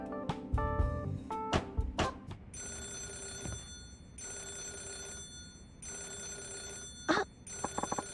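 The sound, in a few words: telephone ringing in the video game Yakuza 0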